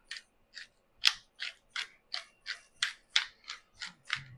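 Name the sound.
adjusting a pepper grinder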